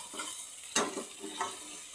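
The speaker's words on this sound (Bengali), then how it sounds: "মশলাটাকে ভালো মতন ভেজে নিতে হবে।" Spice paste frying in a pan for a spicy vegetable dish sizzles softly while a spatula scrapes and stirs, with a few sharper clicks; quiet, close, and without talk.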